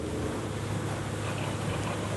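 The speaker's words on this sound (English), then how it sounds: "Make a tight turn at 30 knots, and as soon as you touch the rudder, the boat turns immediately and always remains stable." A motorboat cuts a tight turn at 30 knots on open water, its engine and hull wash merging into a continuous broad roar buffeted by wind noise.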